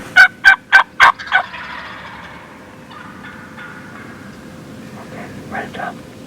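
Wild turkeys gobble while fighting, a rapid burst of four or five loud gobbles up front, then quieter scattered calls and a fainter second round later, with people murmuring in the background.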